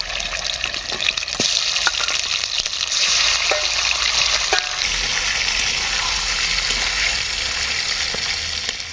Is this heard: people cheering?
no